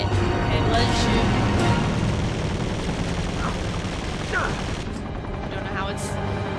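Gunfire from the Uncharted 2 video game, a dense continuous fusillade of shots with a helicopter-like drone, loud and close throughout, with a voice talking over it.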